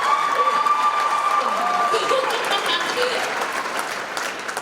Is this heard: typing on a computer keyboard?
no